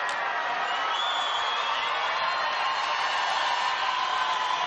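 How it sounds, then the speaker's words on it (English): A volleyball crowd at a Russia versus Brazil final, roaring and cheering excitedly in a steady, loud, continuous wall of voices with whoops mixed in. "Crowd getting very excited here as Giba is coming on."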